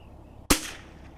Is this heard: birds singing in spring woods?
no